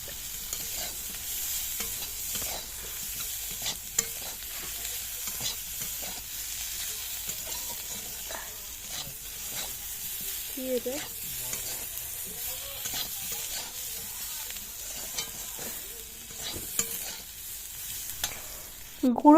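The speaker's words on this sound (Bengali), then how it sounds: "এরপরে মশলার সঙ্গে আলু আর ফুলকপিটা আমরা ভালো করে মিশিয়ে নেব।" Potato and cauliflower pieces, fried earlier, being stirred with spices in a hot pan, giving a steady soft sizzle broken by repeated scraping strokes of the spatula over about twenty seconds, with no voices.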